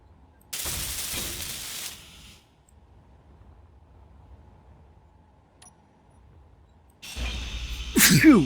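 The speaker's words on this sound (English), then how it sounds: "Sneeze." A loud, sharp sneeze bursts out near the mic, then quiet, followed by another sudden noisy burst with a rising squeal at the end.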